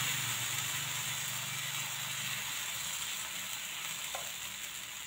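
Batter poured onto an oiled iron griddle, a soft steady sizzle and hiss that fades slightly over time, fairly quiet, with no voices.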